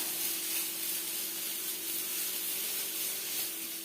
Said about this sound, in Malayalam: പച്ചമുളകും ഇഞ്ചി വെളുത്തുള്ളി ചതച്ചത് ഇടാം ഇതൊന്ന് നന്നായി വഴന്ന് വെക്കാം